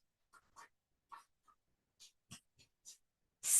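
A pen or pencil writes out a number by hand on paper, short scratchy strokes coming in separate quiet bursts with gaps between them, close and alone.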